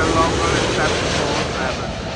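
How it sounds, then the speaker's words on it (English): British Airways Boeing 777-200 airliner arriving from New York, a steady broadband roar of jet engines filling the whole stretch at constant loudness, with no pauses. "the British Airways 777-200 coming in from New York"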